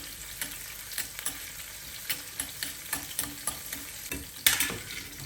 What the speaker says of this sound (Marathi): मिरची परतवून घ्यायची